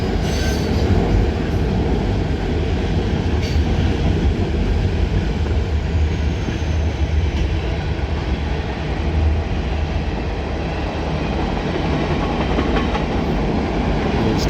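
A Norfolk Southern mixed freight train rolls steadily past at Shenandoah Junction, with loud, continuous rumble and wheel noise and faint squeals over the full duration, close by and without voices.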